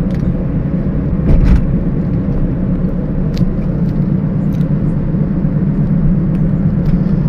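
A car driving at about 60 km/h on the Yamuna Expressway, with a steady, loud low rumble of road and engine noise throughout the cabin and a brief bump partway through.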